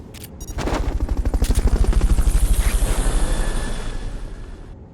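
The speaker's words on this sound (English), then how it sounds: "Fulton recovery helicopter is complete." Fulton recovery helicopter in the video game Metal Gear Solid Peace Walker, a loud rapid rotor thumping that swells in and pulses steadily for several seconds before fading slightly, with sharp clicks at the start.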